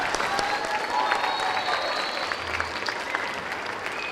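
A school assembly audience at a middle school Veterans Day event applauds: a dense, steady wash of many hands clapping at once, sustained and even throughout with no break.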